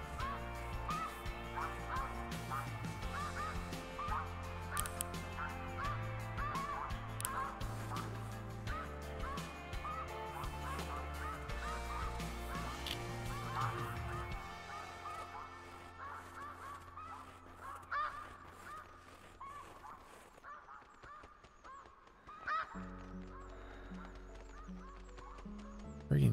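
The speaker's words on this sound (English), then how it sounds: "Geese are loud." A flock of geese honks loudly and continuously in a hunting video game, the calls dense and overlapping, later thinning out into scattered honks with a brief lull.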